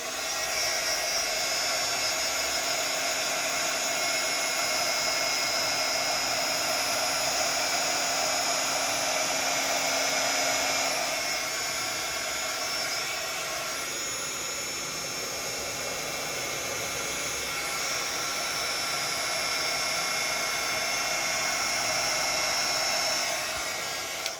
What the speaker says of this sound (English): So back to the heat gun. Sorry about the noise.